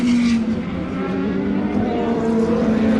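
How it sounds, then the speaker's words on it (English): Aston Martin and Dome race cars pass at racing speed during the Le Mans race. A loud, sustained engine drone with a steady pitch fills the whole stretch, close and continuous. "At racing speeds, that's the sound of the Aston and the Dome."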